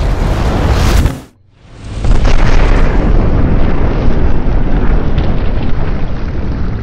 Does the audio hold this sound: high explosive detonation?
yes